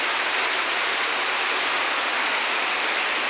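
Heavy monsoon rain pours down in a dense, steady hiss with no breaks, loud and close, with no voices.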